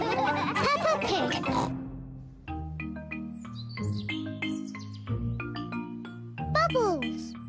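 Cartoon pigs from Peppa Pig oink in a playful style, snorting grunts mixed with bubbly noises and children's voices, fairly close and lively.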